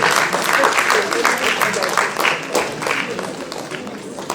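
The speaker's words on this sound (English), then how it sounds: "Come on people, the clapping continue, everybody." Audience clapping for panelists at a panel discussion, a steady dense patter of many hands filling the room, moderately loud, with an emcee's voice calling out over it.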